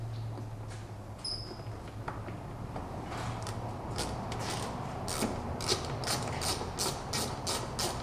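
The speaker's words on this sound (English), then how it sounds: "first thing we're gonna do is take the plastic cover off, covering the ignition coils" Plastic ignition coil cover being pried and unclipped from a BMW Z3 engine, with repeated close clicking, creaking and rattling snaps of plastic over a steady low hum.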